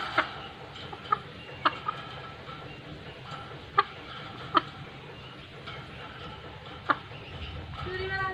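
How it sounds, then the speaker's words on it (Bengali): A rooster held before slaughter for a village picnic clucks in short, sharp, scattered bursts over a steady outdoor background, close by, with a person talking at moments. "দেখেন কেমন করতেছে মোরগটা।"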